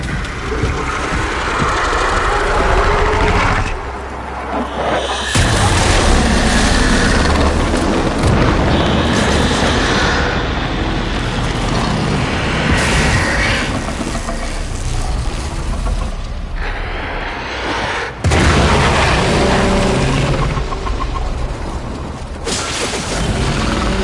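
Explosion in the video game Warframe, heavy booming blasts and rumbling mechanical clatter lasting throughout, loud and sustained with sharp bursts breaking in partway.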